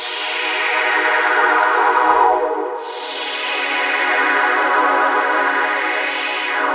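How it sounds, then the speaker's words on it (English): A resonant synth pad preset called Synth Dreamer holds a sustained, bright tone with a stack of steady harmonics. It dips briefly partway through, then swells back and rings on alone for several seconds. "Which is a very resonant pad sound."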